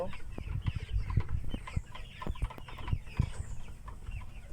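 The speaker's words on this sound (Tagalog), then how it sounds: "Bilang-bilang mga chicken." Chickens cluck close by on a small organic farm, a busy overlapping chorus of short clucks over a low, steady background.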